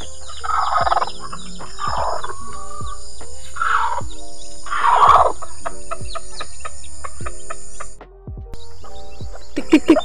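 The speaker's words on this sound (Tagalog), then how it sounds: "ang daming sisiw" Many chicks peep in a farmyard, a scattered flock of high chirps layered with louder clucking and calls from adult fowl, close and busy throughout, with a short pause near the end.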